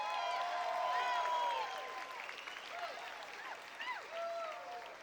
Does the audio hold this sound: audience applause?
yes